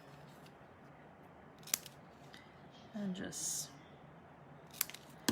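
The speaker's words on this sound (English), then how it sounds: "So I'll get my ribbon scissors" Ribbon scissors snipping ribbon during a craft demonstration: a couple of short crisp cuts close to the microphone amid quiet handling noise, with a person talking softly.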